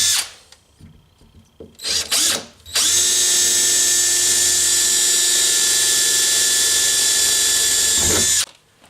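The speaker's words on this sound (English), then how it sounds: "I'm going to go ahead and drill it with the 1/8 inch drill bit." After a few brief clicks and buzzes, an electric drill with a 1/8 inch bit runs at a steady, loud high-pitched whine for about six seconds, then stops.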